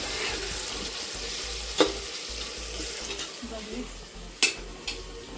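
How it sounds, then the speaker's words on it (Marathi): Soybeans fry in a pan with a steady low sizzle, broken by a few sharp clinks of a utensil against the cookware; no one talks. "थोडं फ्राय करू याला, सोयाबीनला."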